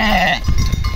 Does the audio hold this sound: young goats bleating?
yes